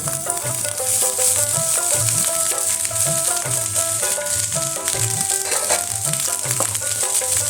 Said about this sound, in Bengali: ভাতটা দিয়ে একটু নেড়ে নেব।